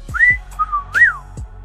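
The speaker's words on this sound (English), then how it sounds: "I just want to whistle at it." A person whistles a short, bright, sliding tune of three rising-and-falling notes in admiration of a sleek LG V30 smartphone, with a few soft low thumps in between.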